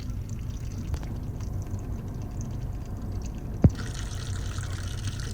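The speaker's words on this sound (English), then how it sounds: "I started to drain the tank to change out that fuel pump" Gasoline draining from a third-generation Dodge truck fuel tank, a steady low trickling pour with a single sharp knock partway through, close by and without voices.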